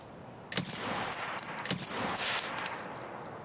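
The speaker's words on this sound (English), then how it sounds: "I just shot at him" Gunfire in the video game Escape From Tarkov: a few sharp shots ring out, one near the start and a quick cluster in the middle, over a quiet outdoor background.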